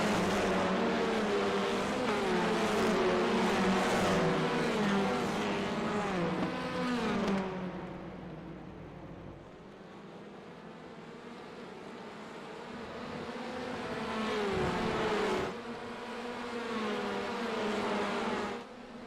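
Front-wheel drive race cars roar off the start on the Daytona banking in a racing sim game, a dense buzzing pack of engines that stays loud throughout with shifts in pitch as cars pass.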